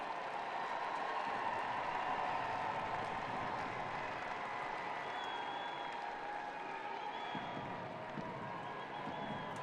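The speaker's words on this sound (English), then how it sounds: "applause from the crowd there for the fact that Portland Thorns are still pushing forward" Stadium crowd at a 2022 NWSL women's soccer match between the Portland Thorns and Kansas City Current applauds, a steady, loud wash of clapping and cheering crowd noise that runs unbroken throughout.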